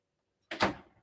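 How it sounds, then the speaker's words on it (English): A door slams once nearby, a sharp loud bang with a short rattling decay in an otherwise quiet room. "stop slamming doors"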